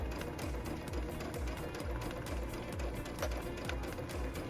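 Sewing machine runs forward and back stitches on a quilted wall-hanging project, a close, rapid rhythmic whirring and ticking of the needle that goes on almost without a pause.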